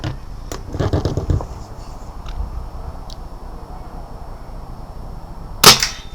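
A BSA R10 Mk2 air rifle fires a sub-12 ft-lb slug, a single sharp crack near the end after a few clicks and handling noises early on, with no talk in the moment.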